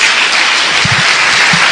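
Church congregation applauding, a brief, dense wash of many hands clapping close and loud, with a faint voice fragment underneath.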